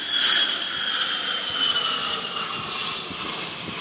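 A fixed-wing airplane drones steadily overhead, a continuous broadband rumble that holds at moderate loudness throughout with no speech.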